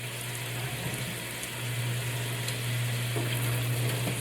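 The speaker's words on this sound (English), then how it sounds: "them onions are frying up over there." Onions sizzle steadily in a pan with a constant low hum underneath, a few faint clinks, and no talking.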